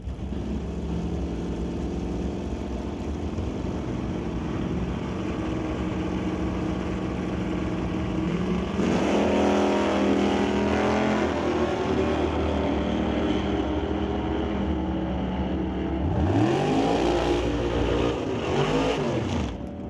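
Drag cars, a Rambler and a Plymouth, race at an NHRA Summit ET event; a steady engine rumble swells into loud roaring passes, then another car roars past near the end, with no voices.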